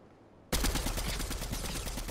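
A single loud gunshot in Fortnite hits suddenly after a quiet lead-in, and its heavy, ringing tail holds for over a second and a half.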